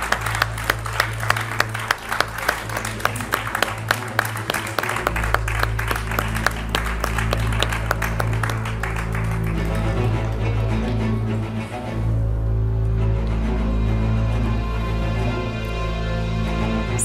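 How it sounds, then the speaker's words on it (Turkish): A studio audience on a Turkish daytime talk show applauds as a guest is invited onstage: dense, steady clapping for about nine seconds that thins and fades into a low room hum. "Onu da bir alkışlayalım mı?"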